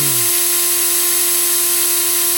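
A drill-powered jig winds fused clapton wire with a continuous, steady high whine that runs unbroken at close range.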